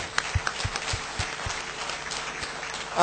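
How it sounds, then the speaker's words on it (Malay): Audience applause for the panel members at the close of a political forum in Putrajaya: faint, distant, scattered clapping that holds steady throughout, with a louder burst right at the end. "Tepukan sekali lagi kepada ahli-ahli panel kita."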